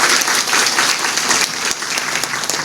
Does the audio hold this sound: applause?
yes